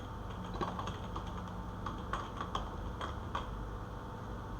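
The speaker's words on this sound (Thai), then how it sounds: "เดี๋ยวผมจะลองพิมพ์ดูนะครับ" Quiet, irregular clicking of keys on a computer keyboard over a low steady background hum, with light taps scattered throughout.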